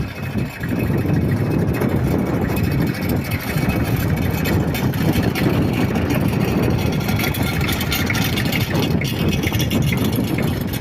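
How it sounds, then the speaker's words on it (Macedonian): A tractor engine runs continuously and loud with a rough, steady low rumble on the road between Edinakovci and Barakovo in Demir Hisar, with no talking. "Повторно видео со трактор"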